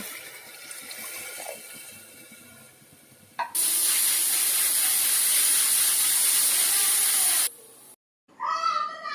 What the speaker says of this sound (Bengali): এখন আমি পরিমাণ মতো জলটা অ্যাড করে দেব।